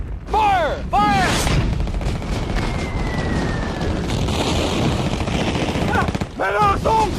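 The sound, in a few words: artillery gun firing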